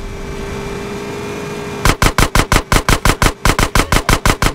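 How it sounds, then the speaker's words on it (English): Rapid automatic gunfire from GTA San Andreas as a sewer gate is shot out, a loud burst of evenly spaced shots starting partway through and continuing steadily to the end. "Shoot out the gate!"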